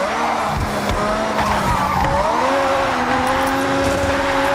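A race car in the Forza video game drifts with a continuous tire squeal over a revving engine. The sliding screech is loud and close, its pitch wavering as the car slides, with no talk.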